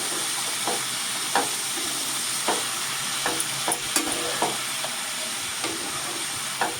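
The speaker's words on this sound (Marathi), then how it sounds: "आणि आता ढवळून घ्यायचा." Spatula stirs a pointed gourd and potato stir-fry in a pan, giving intermittent scraping strokes over a steady soft sizzle.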